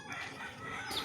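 A chicken among backyard poultry gives a short soft cluck, heard faintly and briefly with no talk.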